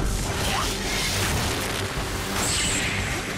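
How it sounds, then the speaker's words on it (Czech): A roaring cartoon water-blast attack effect from the Gormiti animated series, a dense, loud rushing surge with whooshing spray and booming low rumble that holds steady for several seconds. "Vodní výbuch!"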